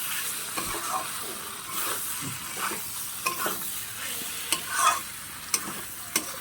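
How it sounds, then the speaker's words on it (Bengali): Flat beans and shrimp being stirred in a frying pan, a continuous soft sizzle with repeated scraping strokes and a few sharp spatula taps against the pan; no voices. "দিয়ে এবার এটাকে ভালো করে নাড়তে হবে।"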